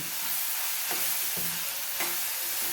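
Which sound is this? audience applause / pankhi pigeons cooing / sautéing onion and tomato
sautéing onion and tomato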